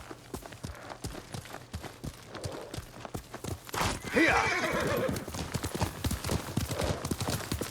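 Horse hooves galloping in the video game Ghost of Tsushima, a steady rapid clip-clop rhythm close by with a horse's whinny partway through, hoofbeats continuing afterward.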